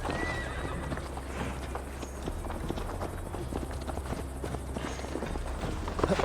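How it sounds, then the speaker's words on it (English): Horses in the video game Assassin's Creed Valhalla galloping with a rapid, continuous clip-clop of hooves and whinnies, close and steady over a low rumble, with a sharper thud at the end. "Mount up, Eivor. It's a long ride to Tamworth"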